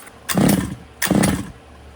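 Two quick pull-start attempts on an HPI Baja 5B RC car's small gas engine, each a short rough burst of cranking and sputtering about half a second long, close and loud, with a pause between.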